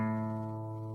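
Open fifth (A) string on a guitar sounding alone during tuning, one steady sustained note fading gently over about a second, close-miked and clean.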